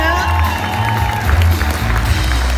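An audience at an award ceremony cheers and claps, a loud, dense roar of applause and shouts from a large crowd filling the whole moment.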